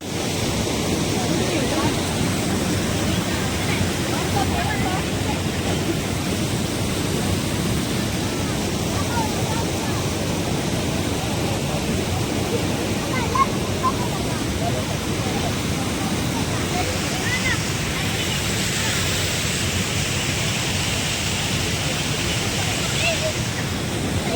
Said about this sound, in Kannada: ಬಲ್ಮುರಿ ಫಾಲ್ಸ್ ನೋಡ್ಕೊಂಡು ಹೋಗೋಣ ಅಂತ ಹೇಳಿ ಬಲ್ಮುರಿ ಫಾಲ್ಸ್ ಹತ್ರ ಬಂದ್ವಿ